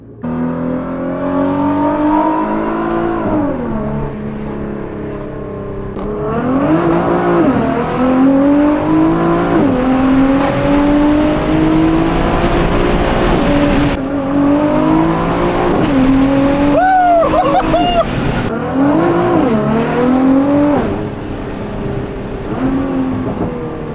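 A Nissan GTR R35 fitted with a Valvetronic Designs titanium exhaust revs and accelerates through repeated gear pulls, its loud rising engine note climbing and dropping several times alone, heard up close from inside the car.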